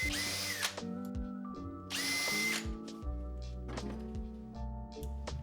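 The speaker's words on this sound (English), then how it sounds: "I also made sure to pre-drill all the screw holes." A power drill whirs in several bursts, pre-drilling screw holes in wood, revving up and slowing down between short pauses, close and loud.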